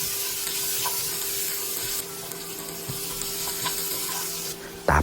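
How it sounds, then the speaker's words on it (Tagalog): Ginger, onion and garlic sautéing in a cooking pot, a steady close sizzle with faint stirring and a constant background hum, ending in a short sharp clank of a utensil. "Tapos magigisa na rin tayo dito ng mga pangpaaroma. Luya, sibuyas at saka bawang."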